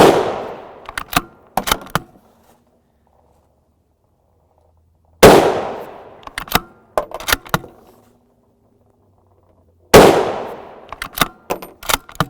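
Three loud, close rifle shots of 7.62x51mm (.308 Win) 167-grain JHP ammunition, fired during a gel test, boom at steady intervals, each followed by quick metallic clinks of the action and brass.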